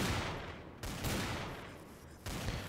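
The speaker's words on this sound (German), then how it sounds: "wer schießt denn da auf mich?" Gunfire rings out in the Trouble in Terrorist Town shooter game, a dense burst of shots with sharp fresh volleys striking around the one-second mark and again near the end, loud and close.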